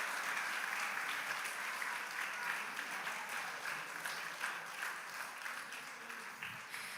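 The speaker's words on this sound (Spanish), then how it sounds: "Un aplauso para Daniel." Dense, continuous applause from an audience in a church fills the whole stretch, even and sustained at a moderate distance, tapering slightly toward the end.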